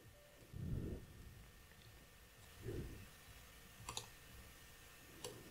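A computer mouse clicks faintly at a desk during a Windows software install, with a few sharp clicks, including a quick double-click, standing out over soft low thumps and room hiss.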